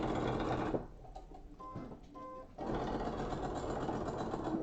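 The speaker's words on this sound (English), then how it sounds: "I think I need a new needle in this machine. It's definitely sounding a little bit clunky." Sewing machine stitching a quilt block, its worn needle making it sound clunky: a loud, close, steady mechanical whir that pauses for about two seconds in the middle, then resumes with no talking over it.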